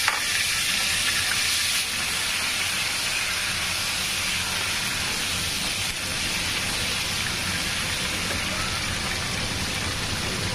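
Whole cumin, a bay leaf, chopped tomato and green chili sizzle steadily in hot oil for a fish curry, a loud continuous crackling hiss that holds from start to finish with no voices.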